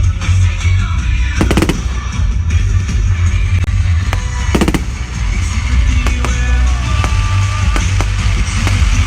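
Bonfire night fireworks explode in loud, rapid crackling volleys with sharp bangs, close and continuous over a deep rumbling background.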